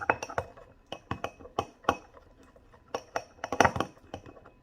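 Powder stirred in a glass container for a fireball science experiment, a spoon clinking against the glass in quick, uneven bursts of sharp taps with short pauses, close and clear with no talk.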